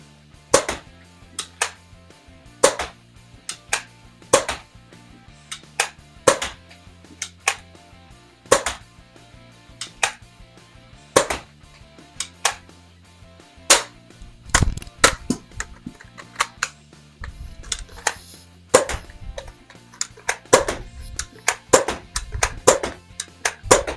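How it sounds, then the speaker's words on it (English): A Dart Zone Max Outlaw foam dart blaster fires max darts in a long series of sharp, punchy shots, spaced about a second apart at first and then coming faster and more irregularly, close and loud. "I will show you firing"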